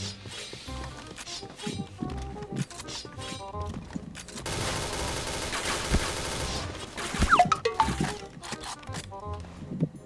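Rapid bursts of gunfire from dual guns in an online shooter game crackle close and loud, with a dense sustained volley in the middle and scattered shots and game effects around it.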